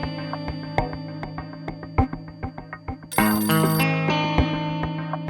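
A phone ringtone plays as a repeating electronic melody in a domestic setting in an Indian television drama, loud and clear with no talk over it.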